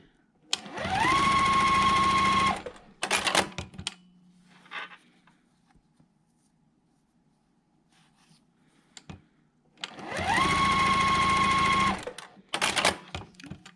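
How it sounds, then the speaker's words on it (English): A sewing machine stitches a quilt block in two loud, steady runs of about two seconds each, each followed by quick clicks and handling noises, with a quiet stretch in between. "I'm going to go ahead and sew the little body part here."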